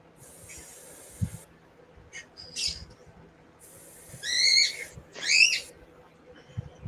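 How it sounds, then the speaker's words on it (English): A noisy bird calls from nearby with hissing, raspy bursts followed by two louder, rising squawking calls over faint background rumble. "Ah, Noisy Bird."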